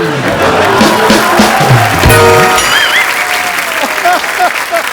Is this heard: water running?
no